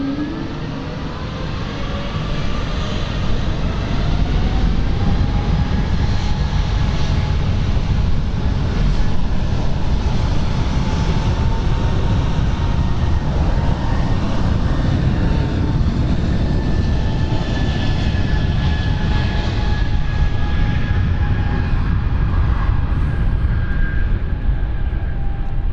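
Aircraft take off and fly past over London City Airport, a loud, continuous jet roar that swells in and holds steady and powerful for the whole stretch, with no voices.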